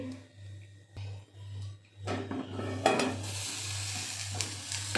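Bitter gourd stir-fry frying in a pan, a quiet start giving way to louder sizzling with utensil scrapes and pan knocks over a constant low hum, no speech.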